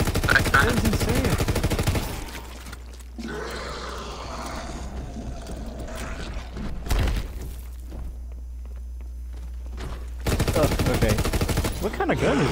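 Bursts of gunfire in a WW2 zombies video game, loud dense volleys at the start and end with quieter stretches of scattered shots and movement between.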